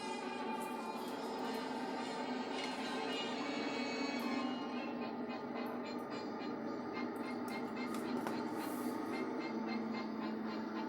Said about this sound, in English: Been busy running some trains, working on the layout.